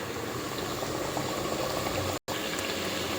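Katrika chutney mixture sizzling steadily as it sautés in a pan, a constant bubbling hiss with a brief dropout partway through, close and alone without talk.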